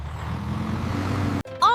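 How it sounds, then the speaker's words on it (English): A quarry truck engine drones in a steady, low rumble for over a second before cutting off abruptly, followed by a short burst of another sound. "Q is for quarry truck."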